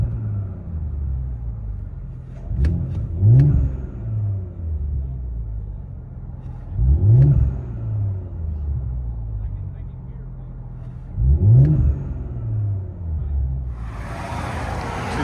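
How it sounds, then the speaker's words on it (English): Inside a 2021 Audi S4 with a 3.0L turbo V6 and an X-pipe exhaust with mid-muffler bleed, a low, steady exhaust drone swells into three distinct revs, each rising and falling, over a constant cabin rumble. "Audi S4. Then X pipe and then mid muffler bleed. Left the rears and the valves on."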